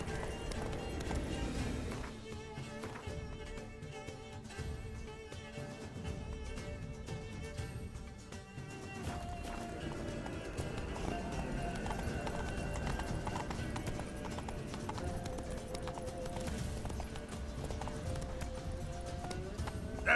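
Roach, Geralt's horse in The Witcher 3, gallops with steady rhythmic hoofbeats, loud and close, over a continuous backdrop of game music and ambience.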